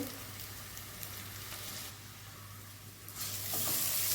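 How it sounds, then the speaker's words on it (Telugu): Ginger garlic paste and turmeric fry in a pan with a quiet, steady sizzle that swells slightly toward the end, close by and with no voices. "అల్లం వెల్లుల్లి పేస్ట్ వేసిన తర్వాత పచ్చివాసన వేయడానికి ఫ్రై చేసుకోవాలి"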